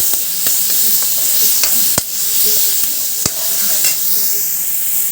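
Tomatoes sizzle in a hot kadhai as mixed saag of palak, sarson, bathua and methi is cooked, with a steady frying hiss, a few sharp stirring clicks and no one talking.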